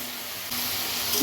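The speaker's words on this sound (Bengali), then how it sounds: "মশলাটা ভাজা ভাজা করি, তারপরে জল দেব।" Masala paste of turmeric, coriander powder, Kashmiri chilli and salt fries in a pan for a fish kalia, a soft steady sizzling hiss that swells after a moment and stays quiet throughout.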